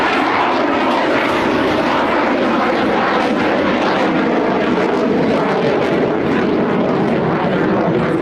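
A Rafale combat jet makes a slow speed pass at Norway's Sola Airshow, producing a loud, continuous broadband engine roar that stays steady and close throughout, with no talk.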